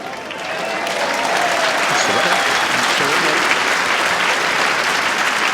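A crowd at the World Bowls Championship breaks into sustained applause, rising quickly to a dense, even wash of clapping that carries on for several seconds, with a commentator's voice faintly underneath at the start.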